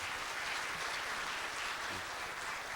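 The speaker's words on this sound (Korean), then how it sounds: "큰 박수 부탁드리겠습니다" Steady, fairly soft applause from an audience at a Korean CEO forum, continuous throughout.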